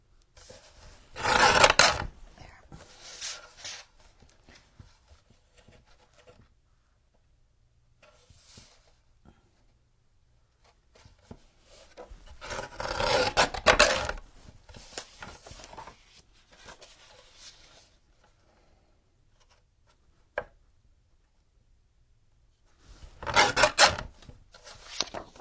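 Paper cut with scissors for a junk journal envelope page: a few close, short bursts of crisp snipping and rasping, separated by long quiet pauses, with no talking.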